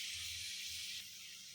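Prawns sautéing in melted butter, a steady bright hissing sizzle that stays even and close throughout, with faint low background hum underneath.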